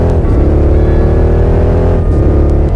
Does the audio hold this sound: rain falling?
no